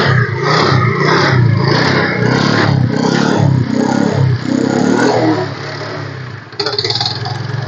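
A second-hand 2011 scooter starts on its self-starter and revs loudly and close, with repeated surges of engine noise before settling to a lower idle near the end.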